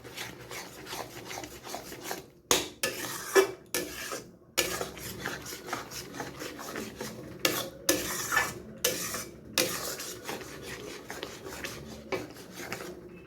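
A spoon scrapes through spinach freshly mixed with a ground paste in a pan for palak paneer, a string of close, raspy stirring strokes broken by short pauses.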